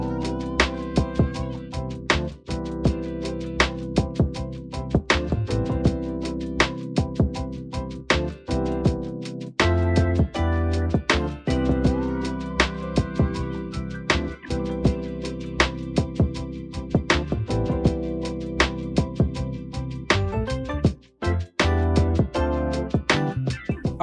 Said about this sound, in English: with the instrumentation and the drums, the beat sounds like this.